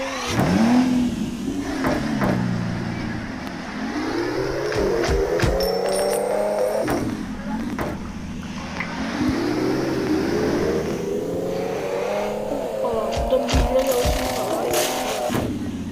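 A Ferrari engine in a video game revs repeatedly, rising in pitch through several pulls, then dropping back, moderately loud with scattered clicks and faint talking.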